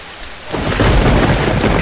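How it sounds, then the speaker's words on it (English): Thunder rolls in from a storm in the video game DayZ, a loud, deep rumble swelling up over steady rain and staying heavy to the end, with no talking. "Thunder in real life scares me too."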